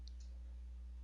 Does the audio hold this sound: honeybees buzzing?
no